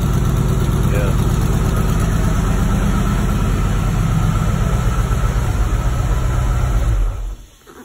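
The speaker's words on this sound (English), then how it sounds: "It's idling good, it's not cutting out." A 1987 Ford Mustang Foxbody 5.0 V8 idles nearby with a steady, even low rumble and no stumbling, running smoothly for about seven seconds before it is abruptly switched off.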